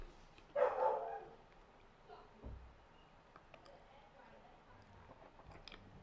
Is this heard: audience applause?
no